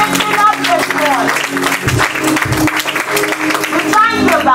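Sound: congregation clapping hands in praise

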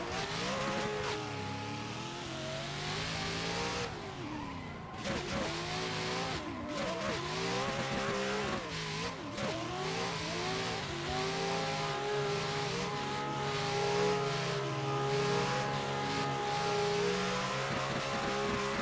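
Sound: Nissan S14 drift car engine and tyre squeal in a video game

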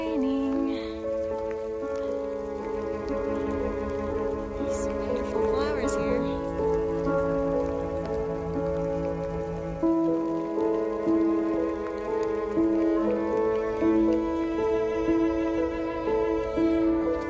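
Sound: rain falling with thunder

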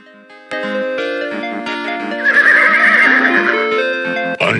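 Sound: horse neighing in the video game King's Quest 6

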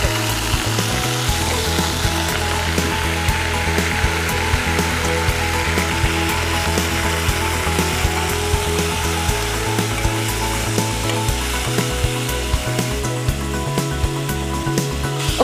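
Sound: frying ponnaganti greens and chana dal together in a pan

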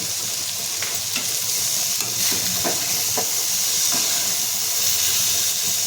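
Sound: sautéing kantola (spiny gourd) vegetable in a pan

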